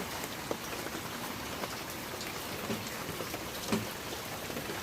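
Continuous heavy rain falling across flooded Metro Manila, a dense, even hiss of drops on surfaces with a few louder nearby splats and drips standing out now and then.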